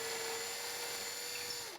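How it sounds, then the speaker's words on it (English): A power drill with a small bit drills a hole in drywall, giving a steady high whine that holds for nearly two seconds and then winds down. "First, we will drill the hole where we're wanting it."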